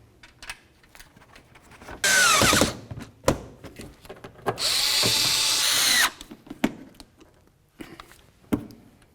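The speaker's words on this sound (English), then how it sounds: "And now we'll finish it off with the bolts." A power tool runs in two sustained bursts, tightening bolts on an air shock of a 2007–2014 Cadillac Escalade, close and loud, with clanks and thuds of handling between the runs.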